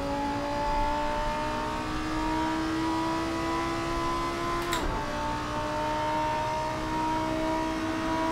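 A race car engine in a racing video game holds a steady, loud drone with sustained harmonic tones that rise slowly, broken by one brief shift in pitch partway through, with no talk over it.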